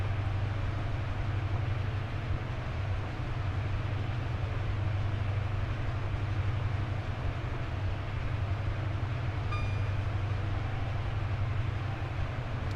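Steady loud rumble of an HST diesel train in Train Sim World 4 on a Fife Circle run, a constant low engine drone and rolling noise filling the whole stretch without pause.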